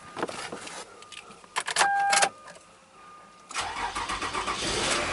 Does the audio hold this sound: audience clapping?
no